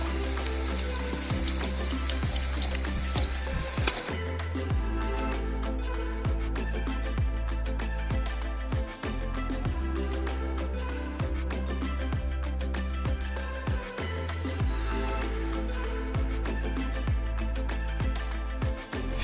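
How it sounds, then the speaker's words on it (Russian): Potatoes frying in hot oil in a kazan over an open fire, a continuous close sizzle with crackling and spattering, plus occasional stirring knocks and a steady low rumble beneath, with no talking. "Мы половину закидываем, половину оставляем. В 2 прихода будем обжаривать."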